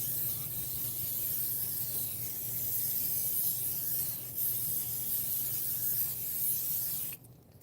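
Canola oil sprayed onto a stainless steel camp pan before cooking shrimp outdoors: a steady, close, continuous hiss lasting about seven seconds that cuts off abruptly at the end.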